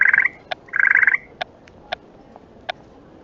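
A Harry Potter themed chocolate frog gives two warbling, croaking trills close up, followed by several isolated sharp clicks spaced through quiet.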